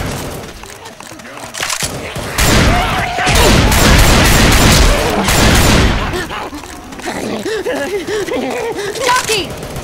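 Gunfire in the zombie shooter Left 4 Dead 2, with loud overlapping bursts of shots building into a dense fusillade mid-clip and fading to scattered shots, while players shout over the action.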